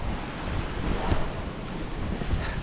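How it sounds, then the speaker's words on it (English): Rushing water at Rhiwargor Waterfall roars as a dense, steady wash of noise throughout, close and loud, with some wind buffeting. "Rhiwargor Waterfall"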